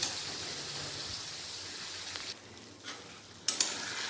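Paneer cubes sizzle and fry with spices in a pan, a steady close hiss broken by a few brief scraping stirs near the end.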